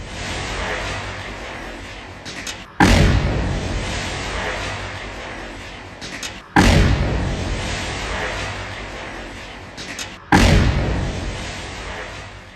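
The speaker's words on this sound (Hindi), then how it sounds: "धमाके की गूंज सुनिए" Three loud, deep booms at roughly four-second intervals, each followed by a long rumbling echo that slowly fades.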